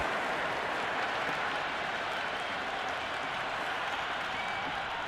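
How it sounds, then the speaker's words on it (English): An IPL cricket crowd at a Gujarat Titans vs Punjab Kings match keeps up a steady, dense wash of applause and cheering that does not let up. "There's a almost tangible fervour throughout the crowd at the moment"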